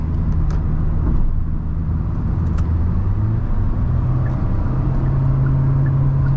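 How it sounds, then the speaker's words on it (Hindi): Steady, loud rushing roar inside a Hyundai Venue moving above 140 km/h, a broad wind and road noise that holds constant throughout with no talking. "मैं 140 प्लस गया हूँ तब मेरे को साउंड आई है, विंड नॉइज़ आई है मतलब।"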